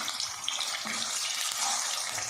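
Chicken pieces dropped into hot ghee in a karahi for Afghani chicken karahi, giving a steady broadband sizzle that holds evenly for a couple of seconds with no voices.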